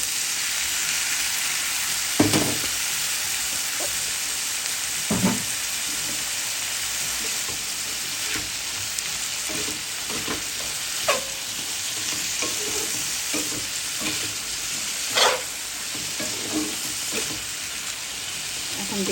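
Green beans fry in a pan with a steady, close sizzle while a spatula stirs them, with occasional louder scrapes and clanks against the pan.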